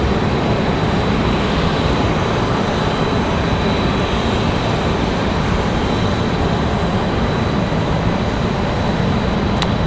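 Spirit Airlines Airbus A320neo arriving at Raleigh-Durham from New Orleans, a loud, steady jet roar filling the whole stretch without letup, close and unbroken.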